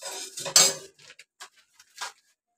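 Cloves are dry roasted in a pan, heard as several light metallic scrapes and clinks of a utensil against the pan, with a louder stir near the start and sparse taps after it, close and without talking.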